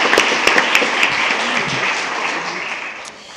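Board meeting attendees applaud a school principal, with a few sharp distinct claps at the start merging into steady clapping that tapers off near the end.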